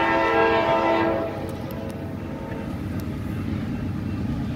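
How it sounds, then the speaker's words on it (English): A CSX empty coal train passes with its horn sounding, a loud close blast for about a second that cuts off and leaves the rumbling roll of the railcars going by. "Oh, a coal train."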